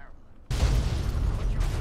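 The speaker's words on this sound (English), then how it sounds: "Car explosion!" A car blows up in Fallout 3: near silence, then a sudden loud boom at about half a second that rolls on as a dense, rumbling roar to the end, with no talk.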